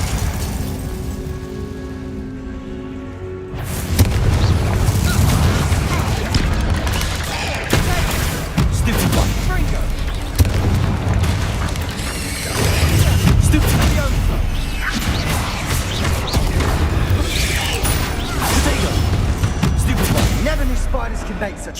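Confringo blasting spells exploding in Hogwarts Legacy, a dense, loud run of fiery bursts and crashes that keeps going with little pause after a quiet opening, layered over busy combat sound.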